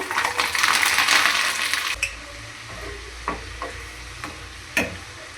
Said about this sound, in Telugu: వెల్లుల్లి దాకా ఇలా పొట్టు తీసేసుకొని ఆయిల్లో వేసుకొని ఫ్రై చేసుకోవాలి.